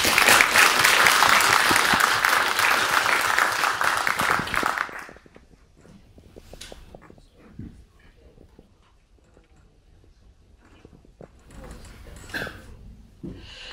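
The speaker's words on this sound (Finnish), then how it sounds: "eiköhän tässä kohti ole panelisteille aplodien paikka" Loud, sustained audience applause for the panelists at a party leadership election panel, dense clapping for about five seconds before it stops abruptly, leaving a quiet hall with scattered shuffles and faint murmurs.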